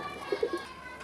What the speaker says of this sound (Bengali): মাশাআল্লাহ সুপ্রিয় দর্শক আমরা এখানে আরেক জোড়া কবুতর দেখতে পাচ্ছি